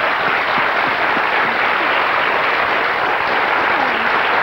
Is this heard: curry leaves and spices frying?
no